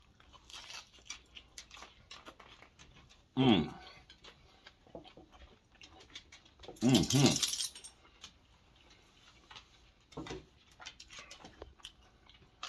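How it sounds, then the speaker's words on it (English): Two loud crunchy bites of a taco with a shell made from cheese stand out from quiet chewing and scattered clicks, each crunch brief and close. "Did you hear the crunch?"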